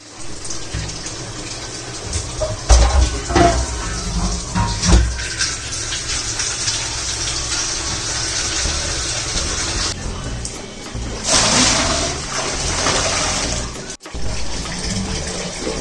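Steady running water pours continuously, fairly close and loud, with a few clunks and brief shifts in the flow, no one speaking.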